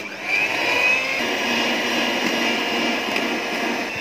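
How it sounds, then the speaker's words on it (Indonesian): An electric mixer at its lowest speed whips icing sugar into a macaron batter, giving a continuous even motor whir with a steady airy hum, close and uninterrupted. "Kita mixer lagi ya pemirsa dengan kecepatan speed rendah, speed 1."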